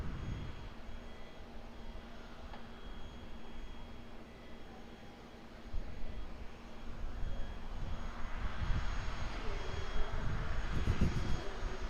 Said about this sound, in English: Lined up at the moment, we've got our all-black Airbus A320, Oscar Alpha Bravo.